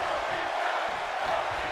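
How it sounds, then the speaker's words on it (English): Arena crowd noise in a WWE 2K22 wrestling match between Cesaro and Drew McIntyre, a steady wash of cheering and roaring heard at a distance, continuous and even throughout. "You can hear the crowd there"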